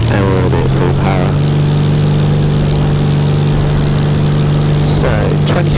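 A small propeller aircraft's engine runs up to full power for takeoff, a loud, steady droning roar with a rising tone at the start and brief bursts of noise over it.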